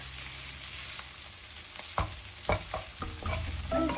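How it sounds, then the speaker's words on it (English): Kimchi fried rice is stir-fried with soy sauce and sesame oil under a steady sizzle, while a spatula scrapes and taps the pan several times in the second half, close and alone. "And also I'll put the soy sauce. I'll also mix these together."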